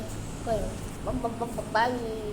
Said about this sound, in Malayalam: അല്ല കോഴിയല്ലോ